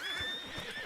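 A spooked horse neighs loudly in Red Dead Redemption 2, a single shrill whinny with a wavering pitch that carries over the whole brief moment, with faint hoof clops beneath it and no talking.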